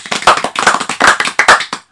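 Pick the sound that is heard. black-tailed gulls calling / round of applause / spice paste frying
round of applause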